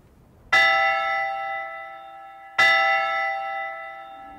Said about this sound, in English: Shall I ring the bell for Vespers?